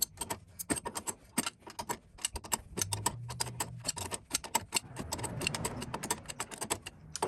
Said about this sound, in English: Mark's going to use 2 crescent wrenches to tighten them together and drive the Uniball out